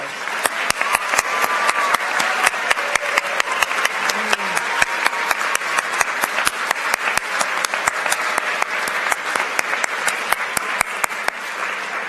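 Audience applause at a school awards ceremony honoring student vocalists rises to their feet, a steady dense patter of many hands clapping that holds evenly for about twelve seconds in a large hall, with faint voices underneath.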